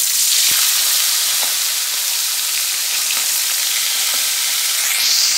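Small puti fish frying in oil in a pan, a steady loud sizzle and crackle that runs through the whole stretch with occasional pops and no voices.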